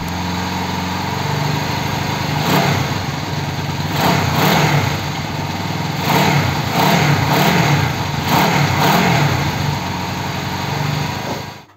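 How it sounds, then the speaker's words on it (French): A Honda CB 125 twin motorcycle fitted with a 150cc engine idles slightly fast, a steady, near, buzzing engine note with a few brief revs rising and falling, running alone without talk before cutting off at the end. "Le ralenti est un peu haut, mais après quelques petits réglages,"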